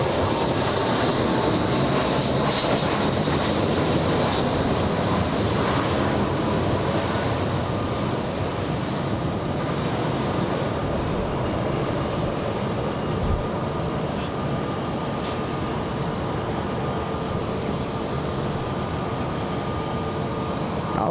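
A jet airliner landing at Los Angeles International Airport gives off a constant loud engine roar and rumble that holds steady throughout, with faint voices underneath.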